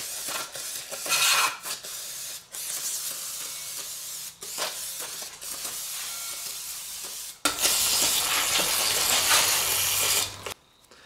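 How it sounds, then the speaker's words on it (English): Brake cleaner sprayed onto greasy trailer wheel bearings and hub, loud hissing bursts repeating in short blasts and a long continuous spray near the end, close up with no talk. "for cleaning all the grease off the bearings and hub and all that, I use some brake cleaner"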